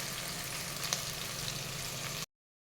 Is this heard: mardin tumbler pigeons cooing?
no